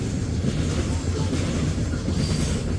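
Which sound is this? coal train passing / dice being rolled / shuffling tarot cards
coal train passing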